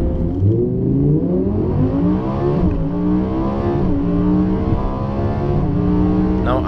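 A 2016 Audi R8 V10 Plus lapping the Portimao racetrack in Portugal, its loud, close engine note climbing and dropping through repeated gear changes in a continuous, sustained roar.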